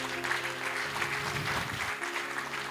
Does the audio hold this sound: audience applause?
yes